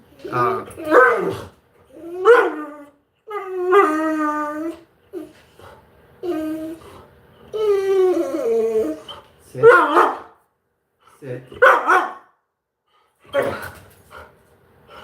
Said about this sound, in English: my dog's being a little hyper right now.